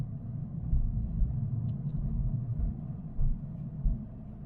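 An electric car rolls gently along a flat road with the throttle barely touched, regenerating charge in B mode; a steady low rumble of road and tyre noise continues throughout, with soft swells and no voices.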